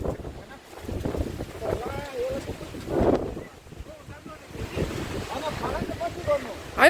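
Strong gusty wind roars and rumbles across an open microphone during a storm in Kurseong, rising and falling unevenly while voices talk over it.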